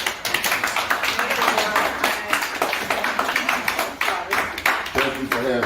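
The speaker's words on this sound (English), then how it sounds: "Let's give her a round of applause." A crowd gives a round of applause at a Harlem Business Alliance event, with loud, close, uneven claps in quick bursts throughout and voices talking and calling out over them.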